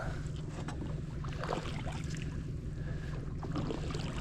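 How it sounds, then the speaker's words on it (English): A boat paddled backward on a lake while jug fishing for catfish: faint water swishes and dull splashes over steady wind and low hum, with no voices. "Try to paddle back a little bit."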